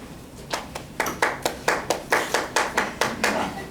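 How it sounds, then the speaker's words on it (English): A small group clapping in a meeting, about a dozen evenly spaced, sharp hand claps in a steady rhythm, close and fairly loud. "I'll clap for Dorothy."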